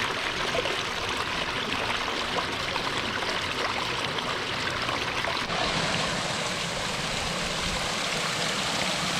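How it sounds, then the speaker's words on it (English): Water spills steadily over a newly built backyard rock waterfall in a Leawood, Kansas yard, a continuous broadband rush and trickle that stays at an even, fairly close level throughout with no voices. "we finally got water running and it came out awesome"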